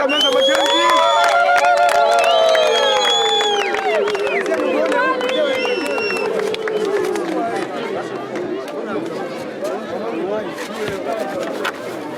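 An outdoor crowd ululates in celebration at the launch of construction work on the Renga Bweremana bridge, with high trilling voices layered over loud chatter and cheering that holds steady, then eases slightly toward the end.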